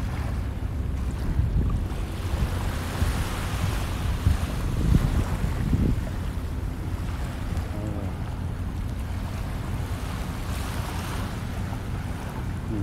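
Waves wash onto the dolomite beach of Manila Bay at low tide, a steady outdoor surf with a few stronger surges in the middle, mixed with heavy wind buffeting the microphone and no speech.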